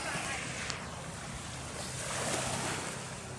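Sea waves wash onto a provincial beach in the Philippines, a steady close surf hiss with wind buffeting the microphone.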